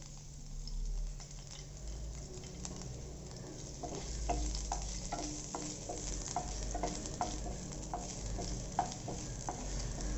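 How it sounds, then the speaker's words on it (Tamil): Finely chopped garlic sizzles in hot oil in a pan, a steady crackling hiss broken by small pops and the scrape of stirring, close and moderately quiet with no talking. "அதில் வந்து ஃபஸ்ட்டு நம்ம பொடியாக நறுக்கி வச்சுருக்க பூண்டு சேர்த்துக்க போகிறோம்"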